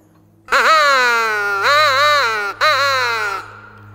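A crow gives three loud, drawn-out caws close by, the last one ending in a brief trailing rasp.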